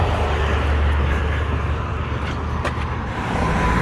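A steady, close rumble of road traffic on a small road near a river crossing, a continuous broadband roar with a car swishing past, no pauses and no talk.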